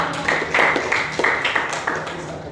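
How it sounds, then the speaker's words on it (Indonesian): Group clapping from a classroom or workshop audience, uneven bursts of hand claps in a brief round, moderately close with some background murmur. "Oke, kita tepuk tangan dulu."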